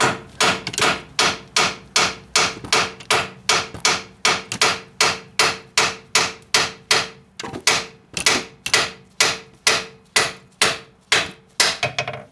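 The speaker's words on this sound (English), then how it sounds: "when you're removing these, you hit the joint that this link passes through" Hammering on a suspension joint of a 2002 Mitsubishi Lancer during CV axle removal: a long run of loud, sharp metallic strikes landing in a fast, even rhythm, close up and with no talk over it.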